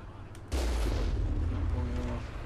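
Tank cannon fire in the Mass Effect video game: a sudden loud boom about half a second in, followed by a sustained rumbling roar that holds steady to the end.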